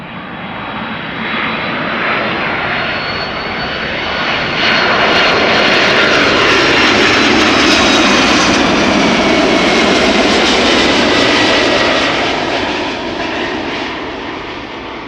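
A 17-year-old Delta Airlines Airbus A330-300 arriving at Amsterdam Schiphol Airport from Salt Lake City makes a loud, steady jet roar that swells toward the middle and eases slightly at the end, with no talking.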